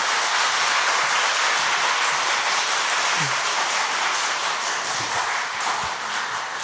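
Steady, dense applause from a sizable church conference audience fills the whole stretch, a continuous wash of clapping with no talking over it.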